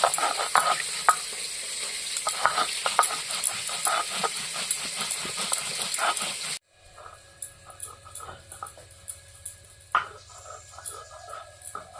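Fish fry in a hot pan, a sizzling hiss with scattered crackles for the first half, then the hiss cuts away to quieter clinks and faint kitchen ticks.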